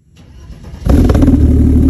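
A Mercedes-Benz M103 turbo engine cranks and catches, then settles into a loud, deep, throaty rumble through a stainless steel exhaust close by, with no voices.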